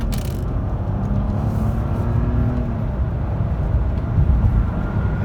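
A 2001 Mercedes E320 W210 accelerates hard from a standstill at night in winter mode with wheel spin, a steady loud engine and road roar with a slight swell near the end and no talk over it.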